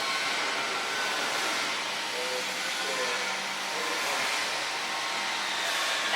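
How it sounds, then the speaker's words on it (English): Pressurized gas rushes through a tube laser cutting machine during a gas flow check: a steady, loud, broadband hiss that holds evenly throughout with no pauses and no voices. "you need to first click the gas to see if the machine is connected well with the air supplier"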